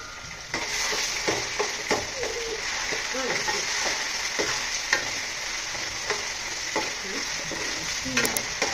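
Ginger garlic paste fries in a pan for a tamarind fish curry, a steady close sizzle broken by scraping stirs and soft clanks of the spoon against the pan.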